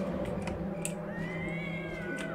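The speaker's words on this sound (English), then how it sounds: "Kitty cats. Maybe they're Khajiits." Cats meowing in the game Morrowind, a few faint rising mews over a low steady ambient drone, with soft clicks scattered throughout.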